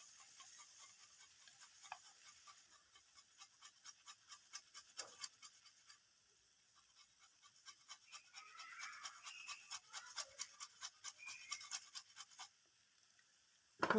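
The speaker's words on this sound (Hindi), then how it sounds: "अब ये जो आलू हैं इसको मैं अच्छी तरह ग्रेट करूँगी।" Boiled potatoes rubbed against a kitchen grater in quick rhythmic strokes, soft scraping bursts repeating in two runs with a short pause between, close and fairly quiet.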